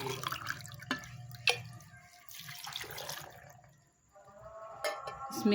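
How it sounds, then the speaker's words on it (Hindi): Water pours and splashes into a blender jug holding mulberries in uneven bursts, with clinks and drips close up, pausing briefly before pouring resumes. "तकरीबन 2 गिलास पानी डाल देंगे।"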